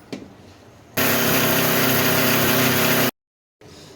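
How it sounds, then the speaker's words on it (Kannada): A kitchen mixer grinder whirs loudly and steadily for about two seconds, blending peanuts, garlic, salt and chili into chutney; it stops abruptly, leaving a short silence before faint room noise returns. "ಇದನ್ನು ಮಿಕ್ಸಿ ಮಾಡ್ಕೊಂಬಿಡೋಣ"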